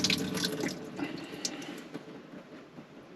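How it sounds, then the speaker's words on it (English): Water running and dripping as chopped onions are drained in a kitchen sink for a colorful summer salad, a steady trickling wash with scattered drips, fairly faint and close, with no talk over it. "drain off those onions"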